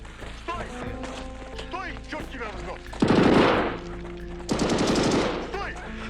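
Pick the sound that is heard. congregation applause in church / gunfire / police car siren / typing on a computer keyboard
gunfire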